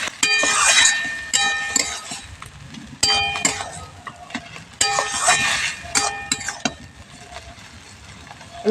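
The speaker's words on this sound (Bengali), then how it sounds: "সব একসঙ্গে খুব ভালো করে মিশিয়ে নিচ্ছি" Cabbage and tomato stirred together in a pan, with repeated clinks and scrapes of a utensil against the metal in bursts and a light sizzle underneath, close and moderately loud.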